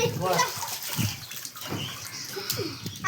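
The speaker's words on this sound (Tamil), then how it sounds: "ஏய் தண்ணி ஊற வெளியே போகுதுடா." Water gushing and flowing outward in a steady splashing rush, with people talking and calling out close by throughout.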